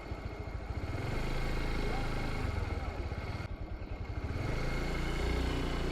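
Motorcycle engine running steadily on a rough, slippery mountain road in Nepal, a continuous loud mid-pitched drone with bumpy fluctuations, voices talking over it.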